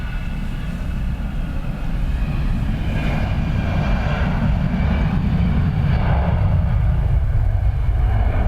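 An aircraft taking off from runway 10 right at Dublin Airport makes a loud, continuous engine roar that stays strong and deep, its low rumble building toward the end.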